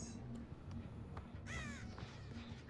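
Crows caw in a video game, a couple of faint, brief harsh calls over a low steady background of game ambience, fairly quiet overall.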